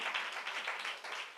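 A church congregation claps to thank the Lord, a dense, fairly quiet wash of many hands patting in a loosely steady rhythm, sustained throughout.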